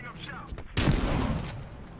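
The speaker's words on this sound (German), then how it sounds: "Fässer explodieren vermutlich, wenn ich drauf schieße." A sudden loud blast of exploding barrels in the video game Battlefield Hardline erupts partway through, followed by a rumbling, crackling tail that slowly fades, after faint background sounds.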